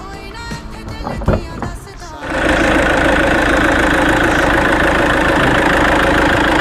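A brief stretch of clicks and handling sounds, then the intercooled engine of a 2013 Toyota Innova V rumbles and settles into a loud, steady idle that continues to the end.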